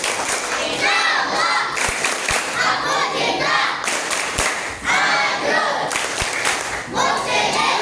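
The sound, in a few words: children's group clapping chant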